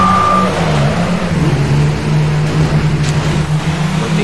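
A Golf car in the video game Midnight Club 3 holds a loud, steady engine drone, its pitch dipping briefly as if shifting gears before it settles into the same sustained tone.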